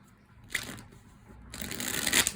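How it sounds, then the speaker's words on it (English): A thick Tattoo Tarot and Ink and Intuition tarot deck is shuffled by hand, with two short rustling, papery riffling bursts, close and fairly quiet, and no talking. "I'm going to go ahead and begin shuffling."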